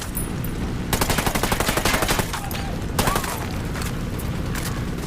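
Gunfire and explosions in the video game Ghost Recon Wildlands after a frag grenade is thrown: dense rapid automatic bursts around one to two seconds, a heavy boom near three seconds, and continuous shooting throughout, loud and close.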